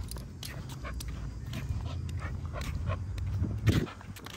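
A dog making short yips and whimpers amid shuffling footsteps and movement nearby, with someone speaking over it.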